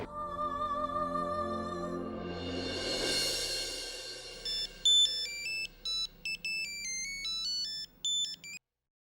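A phone ringtone plays a bright electronic melody, loud and close, in repeated bursts that stop abruptly, with no talking over it.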